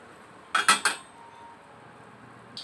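A spoon stirring sugar into pancit sauce in a metal pan, three quick close clinks against the pan, then quiet.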